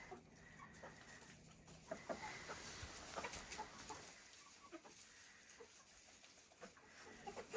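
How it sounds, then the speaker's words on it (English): Chickens including Americanas and Australorps, with a rooster, cluck softly inside a winter coop, scattered quiet calls and short bursts of activity repeating through the scene at low volume. "Happy chickens."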